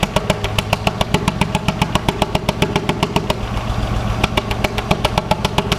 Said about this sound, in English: You notice we got a pretty good misfire right there.